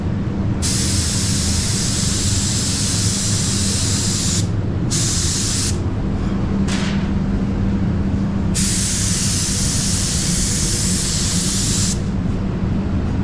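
An ANi Compact 1.8mm primer spray gun lays down a coat in long loud hissing bursts, several passes separated by brief pauses, close to the listener under a steady compressor drone.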